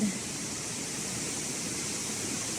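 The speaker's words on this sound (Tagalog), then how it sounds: "Wow, there's the falls." Waterfall on Camiguin island, a steady broadband rush of falling water, even and continuous throughout, close and moderately loud with no other sounds standing out.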